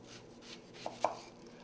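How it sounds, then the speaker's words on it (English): A kitchen knife cuts into an onion on a board, two quiet distinct thunks over a soft steady background hum, no talking. "I cut one end of the onion like so"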